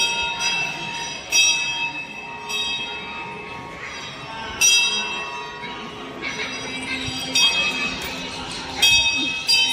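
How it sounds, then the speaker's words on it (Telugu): Temple bells at Mahakaleshwar temple ring repeatedly in bright metallic strikes, several clangs spaced through the scene over a busy background murmur of devotees talking and moving. "గంట సౌండ్లు వస్తూనే ఉంటాయండి ఇక్కడ ప్రతి చోట గంట కడుతూనే ఉంటారు"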